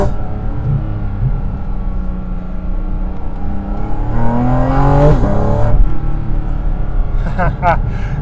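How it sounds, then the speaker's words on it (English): Flat-six engine of a Porsche GT4 RS Weissach heard from inside, revs rising and blipping through downshifts, loud and close with a driver talking over much of it. "Listen to those downshifts."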